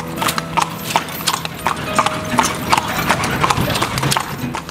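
A horse's hooves clip-clop steadily on the street as it pulls a cart, close and continuous, with the cart's rattle and street noise beneath.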